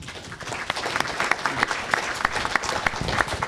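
A forum audience claps steadily for sheriff candidates in a medium-sized room, dense, even applause at moderate volume with no voices over it.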